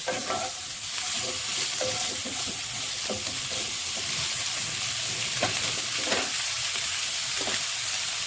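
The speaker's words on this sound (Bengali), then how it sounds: "হাফ চামচ নুন দিলাম, আর হাফ চামচের কম একটু হলুদ দিয়েছি। এবার একটু ভেজে নেব" Salted, turmeric-dusted food frying in a pan for a Bengali bhetki fish curry with potato and cauliflower, a continuous close sizzle broken by repeated scraping stirs and light spatula knocks.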